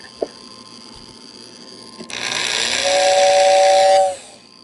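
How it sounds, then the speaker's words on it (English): Whistle of a 1949 Lionel toy steam engine: after a click, a close, loud breathy hiss swells up and a steady two-tone whistle holds for about two seconds before cutting off. "So let's hit the whistle button and let you hear it."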